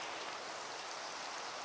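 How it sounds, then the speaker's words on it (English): Steady rain falls in the Minecraft video game, a continuous even hiss of drops with no other sounds over it. "Hello, rain."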